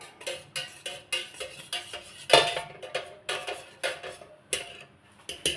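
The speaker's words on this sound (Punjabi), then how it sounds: "ਫਿਰ ਲੂਣ ਆਪਾਂ ਚਮਚੇ ਨਾਲ ਰਲਾ ਦਿੰਦੇ ਆ" A spoon clinks rhythmically against a metal bowl while salt is mixed into dough for bhature, steady close scraping strokes repeating about twice per second.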